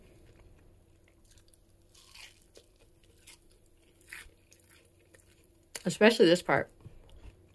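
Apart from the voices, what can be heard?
chewing crispy keto flatbread near microphone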